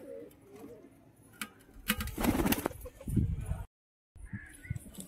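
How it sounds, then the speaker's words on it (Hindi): Pigeons kept by a hobby pigeon fancier, including a tumbling female, coo softly and flap their wings nearby, with bursts of wing noise and rustling in the middle before a brief silence and more soft activity. "ये कबूतरी है और पलटी भी मारती है, बहुत अच्छा उड़ती है"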